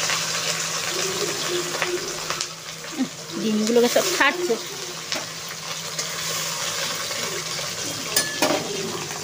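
Bata fish sliding into smoking-hot oil in a kadai sets off a steady, hissing sizzle with a brief spattering burst partway through, while a person talks over it.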